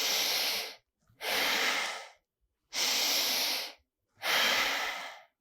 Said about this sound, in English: Making equal inhale to equal exhale through the nose.